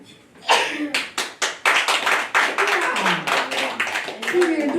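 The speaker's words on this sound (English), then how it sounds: "I now want you to clap to yourself because of coming." A church congregation at a gospel service claps loudly in a ragged series of sharp, closely spaced hand claps, with voices calling out beneath them.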